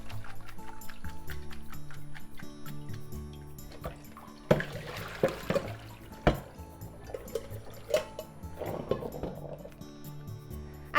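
Freshly rinsed spinach drains in a kitchen sink, with close running and splashing water, a few sharp clatters and sloshes partway through, fairly quiet overall.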